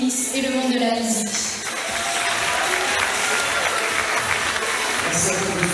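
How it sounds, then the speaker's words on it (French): Audience applause at the Miss Lens 2024 pageant, steady dense clapping from a crowd that fills the whole stretch, with some voices mixed in. "On peut remercier et encore applaudir toutes ces mises pour ce beau discours."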